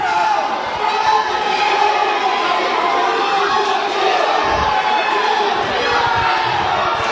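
A wrestling arena crowd cheering during a tag-team match between Team W.A.R. and The Iron Saints, a dense, steady roar of voices with shouts rising out of it and an occasional thud, loud and continuous throughout.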